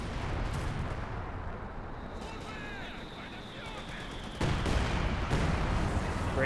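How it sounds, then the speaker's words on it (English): Soviet landmines explode in the field during a Company of Heroes 2 match, a dense, continuous rumble of blasts and gunfire that swells louder toward the end, with no voices over it. "Got more Soviet landmines exploding in the field."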